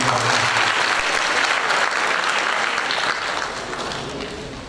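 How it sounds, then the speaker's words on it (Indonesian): Audience applause at a high school graduation ceremony, a dense, loud burst of clapping from a large crowd that holds steady, then eases slightly toward the end. "Tepuk tangan buat teman-teman."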